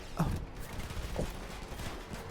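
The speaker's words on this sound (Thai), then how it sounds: "ยิงล้อยิงรถยิงรถรถระเบิด" Gunfire in Far Cry 5 during a roadblock fight: a couple of faint, distant shots ring out over low game ambience.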